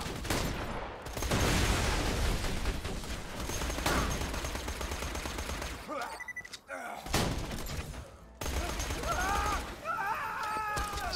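Axton's deployed turret in Borderlands 2 fires steady rapid bursts at close range, broken by short pauses, with explosive impacts and enemy groans mixed in and a voice talking at times.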